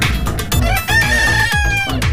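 Country chickens and White Leghorn hens cluck and crow close by, with a drawn-out rooster call in the middle and busy clucking around it.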